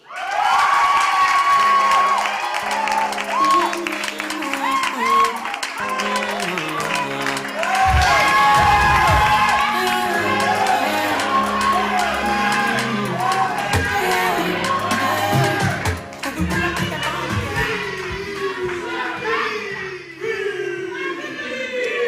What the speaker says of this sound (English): Ladies and gentlemen, a round of applause for Fee.